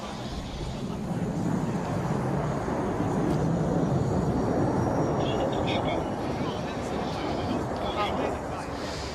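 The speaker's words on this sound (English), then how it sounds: "And now the pilot turns left to perform a half cubinate." An Italian Air Force Tornado IDS variable-sweep-wing jet roars past at the 2017 Cosford Air Show, a loud, steady, broad engine rumble that holds throughout, with voices faintly audible beneath it.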